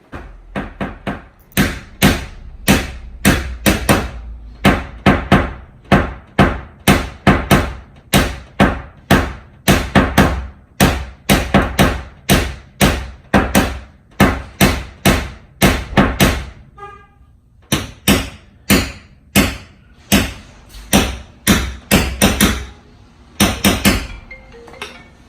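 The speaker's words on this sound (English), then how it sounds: "he's just going to do some fine tuning with the hammer in a moment" A hammer taps a car panel during paintless dent repair on an Evo, striking in rapid, steady, sharp metallic blows. There is a brief pause partway through, then the tapping resumes.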